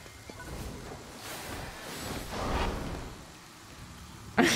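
Rain falling in the video game Ghostwire: Tokyo, a soft continuous hiss and wash that swells and recedes in gentle waves, fairly quiet, ending with a brief sharp knock.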